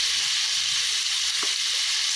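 Beans fry in a pan as salt, turmeric, chili and spices are stirred in, giving a steady, loud, even sizzle with one brief scrape midway and no voices.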